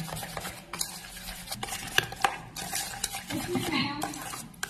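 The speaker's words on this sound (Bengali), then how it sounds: "ডিমের সাথে চিনিটাকে ভালো করে আগে মিশিয়ে নিতে হবে" A whisk clatters rapidly against a bowl, beating egg and sugar together for a soft tiffin cake batter, with a steady run of scraping, tapping strokes close by and no voice.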